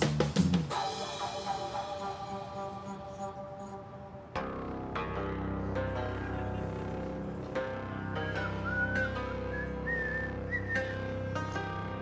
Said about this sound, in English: I didn't know I could whistle